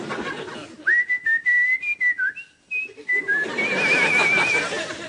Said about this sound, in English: he was whistling the theme tune to Sports Night